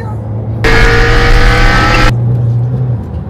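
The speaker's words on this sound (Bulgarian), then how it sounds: "сега тия спортни автомобили, какво правят?" A sports car roars past on the road close by, a loud broadband whoosh lasting about a second and a half before cutting off, heard from inside another moving car over its steady hum.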